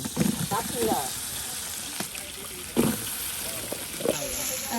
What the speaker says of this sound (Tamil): இப்ப வெங்காயம் வந்து நல்ல பொன்னிறமாகிறது எண்ணெயில் வதக்கணும்